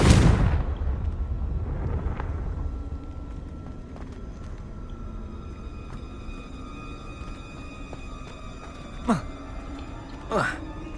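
A Confringo blast spell explodes in Hogwarts Legacy: a loud burst at the start with a rumbling decay, a quiet ambient stretch, then two sharp whooshing cracks near the end.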